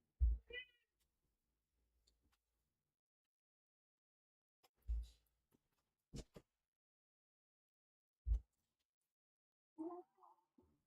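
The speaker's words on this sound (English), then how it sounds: "Oh, cat's back." A cat meows several times in short, separate calls spread across a quiet room, close and fairly clear, with long silent gaps between them and no talk.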